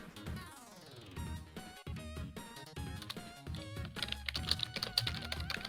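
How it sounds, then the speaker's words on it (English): Typing on a computer keyboard: quiet, rapid, irregular key clicks running throughout, mixed with tonal background sound. "Okay, I hear typing."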